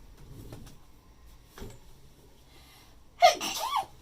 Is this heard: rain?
no